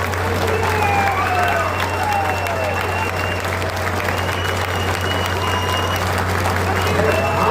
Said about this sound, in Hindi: हाथ पकड़िए, इनके लिए जोरदार ताली बजाइए।